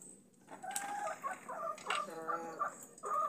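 Chickens and a rooster in a backyard cluck and cackle softly in an irregular series of calls at moderate distance, with no talk.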